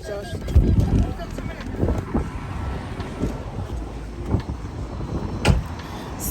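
Wind gusts buffet the microphone outdoors in steady, rumbling bursts, loud and close, while people talk over it.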